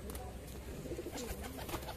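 Pigeons coo in low, repeated rolling calls close by, over a steady background with faint wing flutters and a distant voice.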